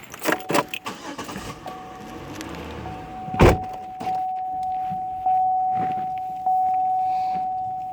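Someone gets into a car: sharp door and seat thumps, a jangle of keys and a loud door slam, then a steady electronic chime tone sounding on and off in the quiet cabin.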